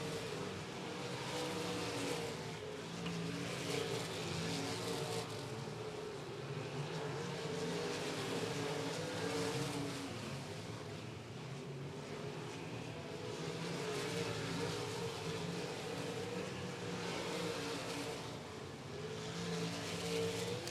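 Race cars circling an oval at Golden Triangle Raceway Park, engines roaring steadily and continuously with rising and falling revs as cars pass, loud and sustained throughout without pauses.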